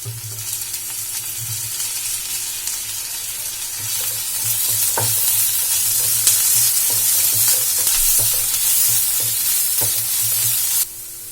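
Cabbage and carrot sizzle steadily while being sautéed in a pan, with occasional stirring clicks and scrapes; the frying hiss swells midway and continues, then cuts off near the end.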